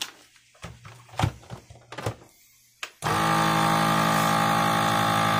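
A vacuum sealer pulls air from a bag of beef being packed against freezer burn: a few thumps and handling clatter, then the machine's motor kicks in with a loud, steady drone that runs unbroken to the end.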